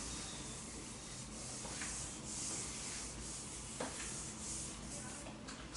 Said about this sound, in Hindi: इसको मैं रब कर दे रहा हूं।